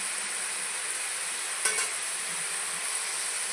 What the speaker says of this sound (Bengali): ভালো করে একটু ভেজে নেব, কাঁচা গন্ধ যেন চলে যায়।